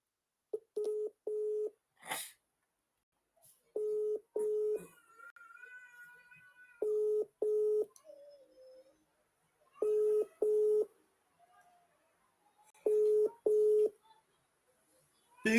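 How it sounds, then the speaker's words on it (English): Phone dialing tones beep in short paired bursts, repeated several times across the stretch with quiet gaps between, and faint ringing or line tones in between, all fairly clean and close. "Let me call the last caller again."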